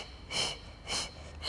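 Breathing during a Pilates mat workout: two long, airy breaths, each lasting about a third of a second, spaced roughly half a second apart, close and fairly loud, with no talk over them.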